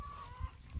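Hens out on open grass give a couple of soft, low clucks, faint and close together under quiet outdoor background noise.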